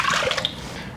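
Heavy cream and water pour into a bowl for homemade buttermilk, giving a brief splashing, trickling liquid sound close by that tapers off quickly.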